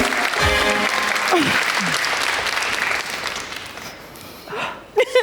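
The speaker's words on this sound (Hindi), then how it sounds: "तालियां भाई शेज़ल के लिए यार भाई" On a Pakistani TV talk show, the studio audience applauds for several seconds as the clapping gradually fades, with voices heard under and after it.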